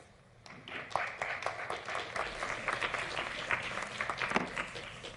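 Applause breaks out from the public gallery of a parliamentary assembly chamber, a burst of many hands clapping that starts after a quiet moment, holds at a steady moderate level and sounds somewhat distant in the large room.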